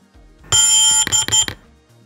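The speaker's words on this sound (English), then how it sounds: "press the power button down for 4 seconds and wait for it to beep" DJI Mavic Air 2 drone powering on, a loud, bright electronic tone followed by two quick shorter beeps in close succession, heard up close in quiet.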